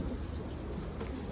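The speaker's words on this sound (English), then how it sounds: "Sorry for the rain." Heavy rain pours down outside a plane at a Kuala Lumpur airport, a steady dense hiss with low rumbling underneath, continuous and fairly loud with no voices.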